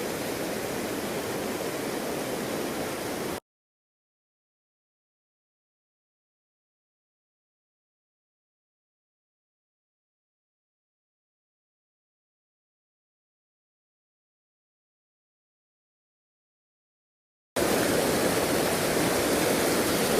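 Rushing river pocket water makes a steady, dense hiss of churning flow. It starts loud and close, cuts to total silence for about fourteen seconds, then returns at the same full roar.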